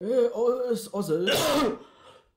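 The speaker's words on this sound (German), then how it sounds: "Ja, es ist nur Husten" A person coughs and clears their throat in a short, harsh burst that follows a few spoken words. The cough is close and fairly loud, then quickly fades to quiet.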